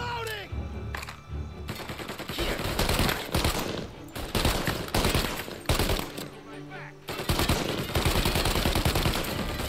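Bursts of rapid gunfire in Mafia Definitive Edition, loud and close, come in repeated volleys with short pauses between them. Voices are heard under the shooting.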